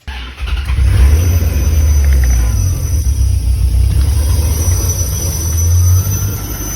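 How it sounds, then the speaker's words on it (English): A 1992-1996 Chevrolet Corvette C4 engine idles loudly and steadily nearby, a deep continuous rumble that starts up right at the beginning. "Let me start the car up again."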